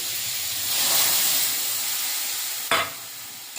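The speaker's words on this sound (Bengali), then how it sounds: "এবারে জল দিয়ে দেবো" Water poured into a hot pan of vegetable curry with jackfruit seeds, bitter gourd, eggplant and potato, giving a broad steaming hiss that swells and fades, then a short sharp burst near the end.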